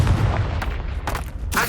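Confringo fire spell blasts in Hogwarts Legacy, heard as a few sharp, booming bursts that crackle over a steady low rumble of game ambience, with no talking.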